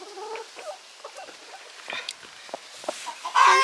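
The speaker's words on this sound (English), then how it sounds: "My bird's chirping now." A pet chicken named Ruby chirps in short, bright peeps scattered across a quiet indoor moment, close and fairly soft, with a louder rustle at the end.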